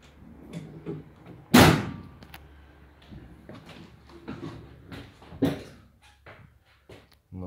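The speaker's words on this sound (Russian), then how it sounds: "закрывать двери." Doors on a Mercedes Sprinter 316 van are shut, with one loud, close slam and a second softer thud a few seconds later among scattered knocks and handling sounds.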